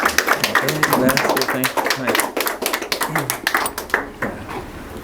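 Audience at a Rastafari culture gathering claps for Jah Angelo, a sharp run of close, irregular hand claps with voices talking over them, the clapping thinning out toward the end.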